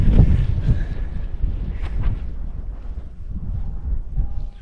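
Wind blowing across an open hillside on the West Highland Way in Scotland, a steady loud rumbling buffet against the microphone that eases slightly midway, with no talking.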